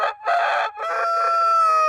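A rooster crows close by, a loud, drawn-out cock-a-doodle-doo that begins with two short bursts and ends in a long sustained note.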